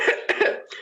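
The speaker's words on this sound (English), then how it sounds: "Give them a little cough." A person gives a few quick, close coughs, three short throaty bursts followed by a softer one.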